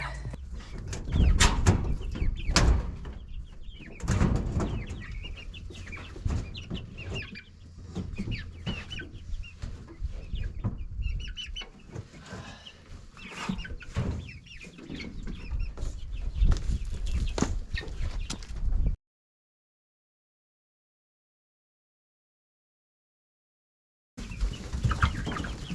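Guinea fowl and chickens in a coop, a dense, close chorus of clucking and squawking calls that goes on for about nineteen seconds, falls silent, then starts again briefly.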